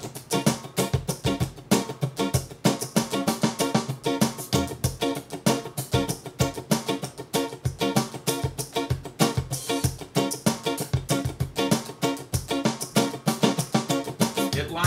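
An electric guitar strums chords in a steady, driving groove, with every third chord squeezed as an accent, played close and loud throughout with no speech.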